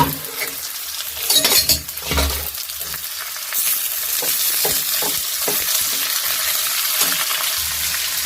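Green peas hit a pan of frying potato roast and get stirred, a steady bright sizzle with scraping and clinking spatula strokes throughout, no voices.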